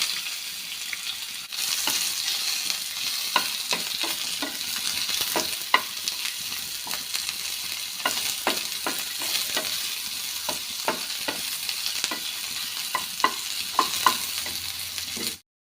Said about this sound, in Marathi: आता थोडंसं तेल टाकूया तेलावरती थोडासा कांदा भाजून घ्यायचा